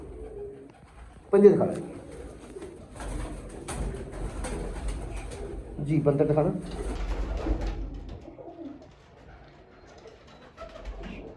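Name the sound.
pigeons cooing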